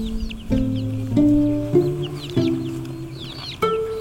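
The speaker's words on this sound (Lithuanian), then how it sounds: "Sėdime tarp kalnų ir to ežero, Tomas, aplinkui laksto viščiukai" Chickens roaming a lakeside camp among mountains in Kyrgyzstan, clucking repeatedly and fairly close, with several drawn-out calls and sharp onsets, over a faint outdoor background and no talk.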